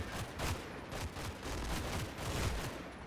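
Gunfire crackles in a World War II tank combat video game set near Aachen, rapid overlapping bursts of small-arms and machine-gun fire pulsing in an irregular fusillade at moderate, somewhat distant volume with no voices.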